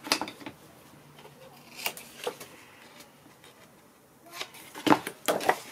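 Paper corners bevelled with scissors while making a fantasy-themed scrapbook album: a few separate crisp snips and paper rustles spaced through a quiet stretch, with a denser cluster of cuts near the end.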